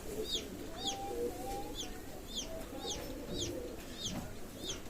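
Male Royal Teddy pigeons cooing in a loft, repeated soft low coos recurring every half second or so, with other birds chirping faintly in the background.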